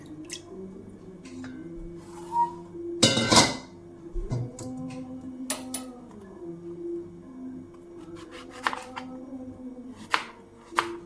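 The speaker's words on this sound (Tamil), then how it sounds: "இந்த மாதிரி நைஸாக கட் பண்ணிக்கணும்" A knife chops a single onion finely on a board. Sparse, irregular taps sound close by, one louder knock stands out, and a faint steady hum runs underneath.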